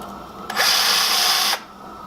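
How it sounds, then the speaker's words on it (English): A power drill whirs at high speed for about a second in a single steady burst, then cuts off. "actually I can use my drill now"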